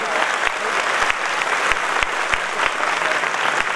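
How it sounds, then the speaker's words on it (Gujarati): A seated crowd at a Rajgor Brahmin community gathering in a Rajkot Swaminarayan temple claps in loud, sustained applause, dense and lively throughout. "આપણે જોરદાર તાળીઓ પાડીએ"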